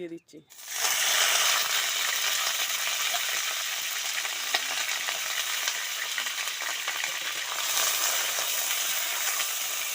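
Meat dropped into hot oil left over from frying onions bursts into a loud, steady sizzle right after a brief clatter at the start, hissing evenly and close up throughout.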